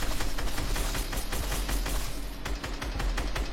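Rapid, sustained automatic gunfire in a shooting video game, dense overlapping bursts of shots continuing loud and close without pause.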